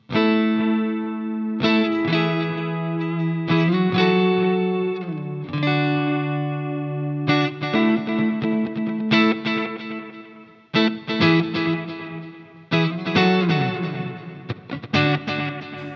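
Electric guitar through a Fractal FM3 plays chords and single notes with a quarter-note delay, each phrase repeating in steady echoes that trail off, with a spacious, effected tone.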